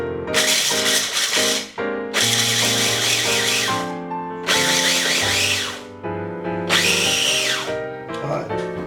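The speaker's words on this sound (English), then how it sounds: "let's grind us some peanuts" A kitchen grinder grinds peanuts in loud, whirring bursts, about four runs of a second or two each with short pauses between, over a steady tonal hum.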